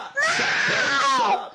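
A cat screeching loudly and continuously right into a microphone, a shrill, wavering yowl that stays close and harsh for over a second with no break.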